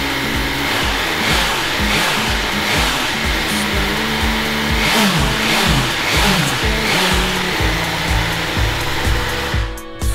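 BMW S1000R motorcycle engine started up and idling with rapid blips of revving, loud and close, a steady pulsing rumble running for about ten seconds with no talking.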